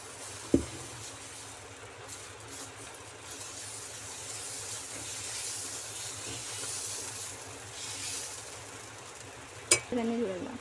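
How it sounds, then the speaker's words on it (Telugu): Dosa batter sizzling on a hot pan, a steady hiss of frying that holds across the whole stretch, with a sharp utensil clink near the start and another scrape near the end. "ఇప్పుడు దోశ వేసేసుకుంటున్నామండి."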